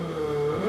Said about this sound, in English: You can see the exhaust smoke popping and banging as the throttle's cut